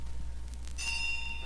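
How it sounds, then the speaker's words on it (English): A single bell strikes once with a clear ringing ding whose bright overtones hang and slowly fade over a low steady hum, alone with no voices. "The bell invites me."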